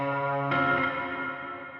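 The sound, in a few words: reverb added to music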